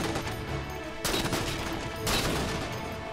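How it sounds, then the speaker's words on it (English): Gunfire from the Halo video game crackles in two dense bursts of fire over a steady background, the shots clustered and loud rather than distinct single reports. "Whoop, some shooting going on."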